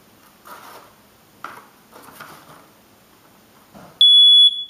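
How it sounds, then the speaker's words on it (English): A smoke detector set off by a homemade moisture sensor sounds a loud, steady high-pitched beep near the end, after a few seconds of quiet shuffling and handling noises. "once you have a moisture, the smoke detector will alarm you"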